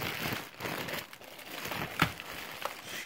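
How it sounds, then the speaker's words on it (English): Plastic wrapping is crinkled and peeled off a Thrustmaster Ghost Recon Wildlands headset box, making close, busy rustling and crackling with a sharper snap midway and no talk. "Give me 1 second while I get this plastic up off of here."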